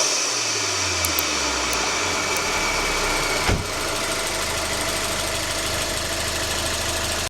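The engine of an Alfa Romeo Giulietta Cloverleaf runs at a steady idle, a dense even hum with fine mechanical ticking from the high-pressure fuel pump on top, heard close up, with one brief thump partway through.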